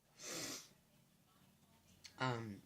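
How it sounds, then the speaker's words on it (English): Two short, breathy coughs close to the microphone, one early and a harsher one near the end, separated by a quiet pause. "Excuse the coughing and all of that."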